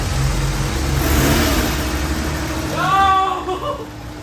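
A Honda car pulls away in first gear, its engine revving up with a rising mid-pitched whine for a few seconds, while people talk briefly nearby.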